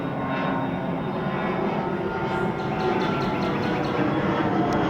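An airplane takes off near Columbia Airport under heavy cloud, heard as a steady, fairly distant engine roar that holds throughout and swells slightly toward the end.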